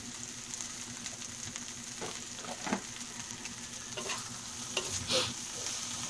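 Three eggs fry with a little soy sauce over leftover rice in a pan, a steady sizzle with scraping stirs and occasional utensil knocks, close and moderately quiet with no talking.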